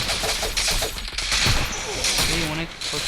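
Rapid gunfire bursts from a video game shooter, loud and dense with bright cracks, while excited voices talk over the shooting throughout.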